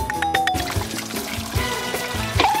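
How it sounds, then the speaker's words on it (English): Water is poured out to water something, a steady splashing trickle heard up close at moderate loudness, with no talking over it. "I'll water them!"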